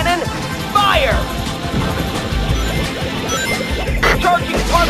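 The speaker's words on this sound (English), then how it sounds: "Particle beam cannon, fire!" A particle beam cannon fires in the Shadow the Hedgehog video game, with loud crashing blasts and sweeping tones over a dense battle din.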